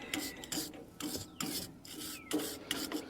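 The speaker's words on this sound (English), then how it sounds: "Then you can go back with a wire brush." A wire brush scrubs back and forth over the rusty threads of a tractor implement in short, rasping strokes, about six or seven rhythmic scrapes, close and fairly quiet, with no talking.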